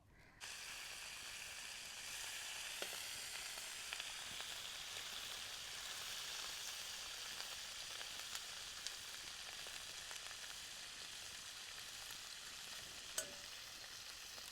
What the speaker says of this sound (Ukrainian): Так гарно шкварчить, вже й пахне.